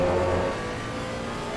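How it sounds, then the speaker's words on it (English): A Porsche GT race car's engine revs in a racing video game, a steady, droning engine note that starts loud and settles slightly quieter, heard alone without speech. "Let's watch the revs on the Porsche."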